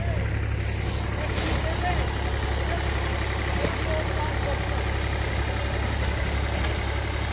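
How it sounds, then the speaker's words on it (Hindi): A tractor engine runs steadily while ploughing a field of sugarcane leaf litter, giving a continuous low drone with constant loudness throughout. A voice speaks faintly over it. "अब ट्रैक्टर ने ये कोना जोत दिया है बढ़िया तरह, 2 बार ट्रैक्टर उसे जोत रहा है।"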